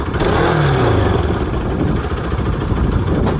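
Motorcycle engine running and being ridden near a beach campsite in General Nakar, Quezon, a steady close mid-pitched engine drone with slight revving, loud and continuous without talk.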